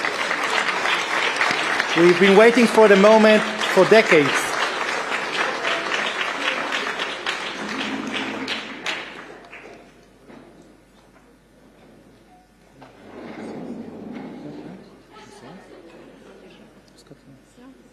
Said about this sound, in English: Let's give a big round of applause for this really historic event